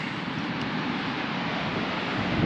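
Steady wind buffets the microphone on the windy side of a coastal lookout on the Great Ocean Road, Victoria, a continuous broad rushing roar with no voices.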